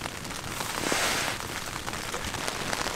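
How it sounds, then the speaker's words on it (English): Steady rain patters on the fabric of a heated tent at a canoe camping site, a dense even hiss heard from inside, moderately loud and continuous with no talking. "outside it's still raining"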